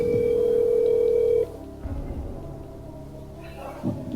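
A telephone on speakerphone: a steady tone sounds clearly for over a second, then cuts off, leaving quieter line noise with faint rings and clicks as the call connects.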